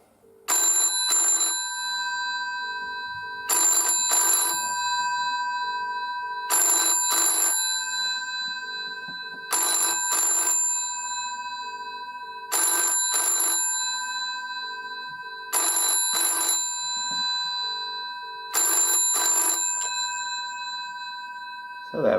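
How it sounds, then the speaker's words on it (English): GPO 700 series telephone bells on a 1977 Silver Jubilee compact phone ring for an incoming call, loud close metallic double-burst rings repeating in a steady cadence with short silences between. "you can hear the lovely 700 series bells"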